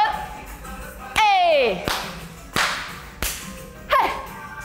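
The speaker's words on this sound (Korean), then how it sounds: "박수 크게" Loud, sharp claps ring out one at a time in a Zumba dance workout class, spaced irregularly, while an instructor's voice calls out between some of them.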